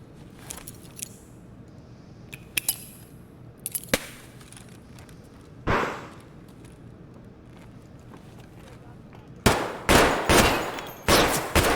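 Gunfire in Escape From Tarkov: scattered single shots early on, then a close, loud rapid burst of several shots with echoing tails near the end.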